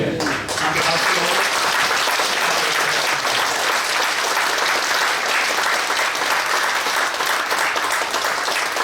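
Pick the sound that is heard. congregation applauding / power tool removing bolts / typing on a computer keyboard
congregation applauding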